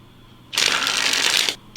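A new deck of trading cards is riffle-shuffled up close, one loud, crisp burst of fluttering cards lasting about a second, followed by a short snap as the deck settles.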